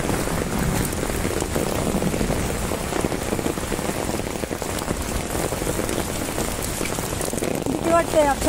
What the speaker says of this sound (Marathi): बघा बघा बघा किती पाऊस आहे.